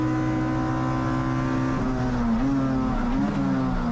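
Race car engine at Sydney Motorsport Park passing during an IPRA NSW round, a loud sustained tone that climbs, dips and climbs again as the car shifts and blasts by close up.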